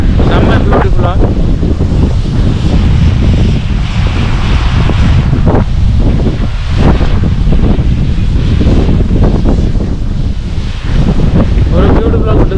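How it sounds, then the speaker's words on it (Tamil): A waterfall in Kolli Hills pours down in a loud, steady, close roar that fills the whole stretch, with gusty wind on the microphone and a voice faintly underneath. "இந்த அருவி பாருங்கள் எவ்வளோ அழகாக கொட்டுதுன்னு"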